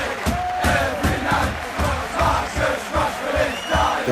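Football crowd in the FC25 video game cheering a player after a missed easy goal, a steady roar of many voices with swelling shouts and whoops throughout, loud and continuous.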